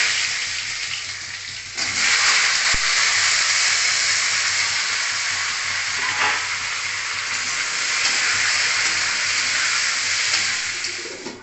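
Potato and sola taro pieces frying in hot oil for a taro murighonto, a steady loud sizzle that swells sharply after about two seconds as they go in, with occasional stirring clicks and no voices.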